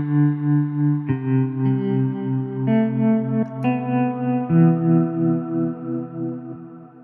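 A sampled guitar patch from the Quartarone Guitar Reveries library plays sustained, shimmering notes and chord changes drenched in heavy reverb and delay, with smeared echoing tails and a steady, close level.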